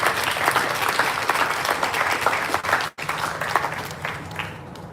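A crowd at a Hindu temple religious gathering applauds steadily, a dense wash of clapping that briefly drops out for an instant before continuing strongly.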